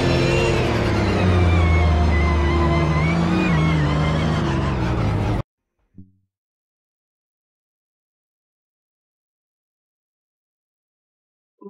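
Race car engine in the Automobilista 2 racing game at a Grand Prix, a loud sustained roar with shifting pitch for about five seconds that cuts off abruptly, leaving near silence with a couple of tiny blips.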